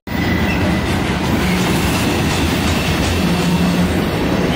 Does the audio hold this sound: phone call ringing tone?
no